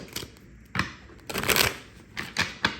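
Tarot cards being drawn and shuffled from a deck, giving several quick papery riffles and flicks at close range, heard alone with no talking.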